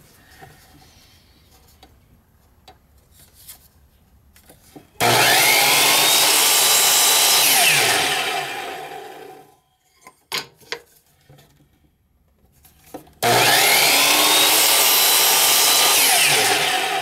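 A power saw cuts wood pieces for a book rack in a shop, with two long loud cuts separated by quieter handling noises and clicks.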